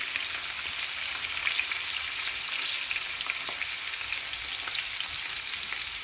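Chopped onions sizzling and frying in a pan for a home-cooked egg and onion dish, a steady crackling hiss with occasional pops and stirring, close and continuous with no talking.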